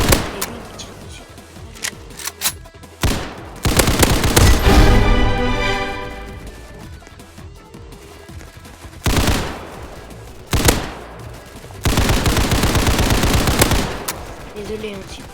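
Rapid bursts of automatic gunfire in the video game Hypershot, loud stuttering volleys several seconds long separated by short single shots and quieter pauses.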